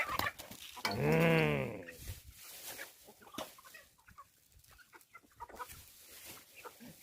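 Chickens in a rural garden give a loud, drawn-out harmonic squawk near the start, followed by softer scattered clucks and rustling for the rest of the stretch; no one speaks.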